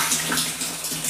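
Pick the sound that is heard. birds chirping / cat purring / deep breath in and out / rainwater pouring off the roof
rainwater pouring off the roof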